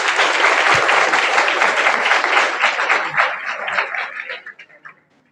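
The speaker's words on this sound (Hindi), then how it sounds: "एक बार सर के लिए जोरदार ताली" A crowd at a college speech event applauds loudly in a dense burst of clapping that gradually thins out and fades to a few scattered claps.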